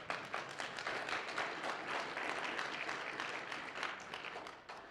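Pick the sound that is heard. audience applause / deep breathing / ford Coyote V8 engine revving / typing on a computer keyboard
audience applause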